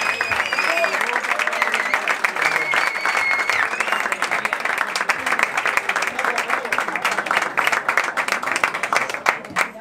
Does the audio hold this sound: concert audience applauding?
yes